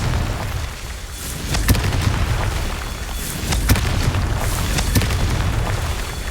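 Repeated fiery blasts from the Confringo spell in the video game Hogwarts Legacy, sharp booming bursts at steady intervals over a constant rumbling in-game background, with no talking.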